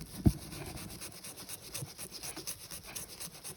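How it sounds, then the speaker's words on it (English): Scrubbing at a small burn mark on a laminate bathroom sink gives a quiet, steady brush-like rubbing with one sharper knock near the start, faint and close. "scrub some more"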